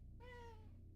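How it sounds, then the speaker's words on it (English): A single drawn-out cat meow, clear and fairly close, rising and then falling over about a second against a steady low hum. "Meow."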